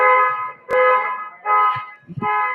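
A loud electronic alarm blares in repeated steady tones with short gaps between them, close and harsh, with some faint clatter underneath, inside a car tinting shop.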